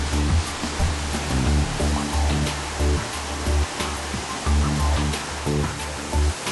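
A waterfall at Hanging Lake spills in a constant broadband rush, close and fairly loud, with a few brief thumps of handling noise scattered through and no talking.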